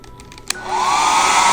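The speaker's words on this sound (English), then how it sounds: "Now, I'm going to use the hairdryer" A hairdryer switches on after a few soft clicks and settles into a loud, steady blowing rush that continues to the end.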